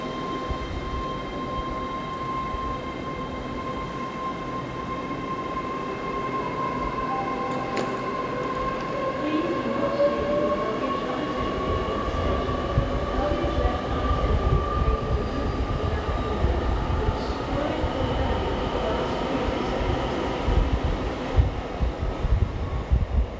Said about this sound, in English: a Class 800 departing whilst I was waiting for the freight train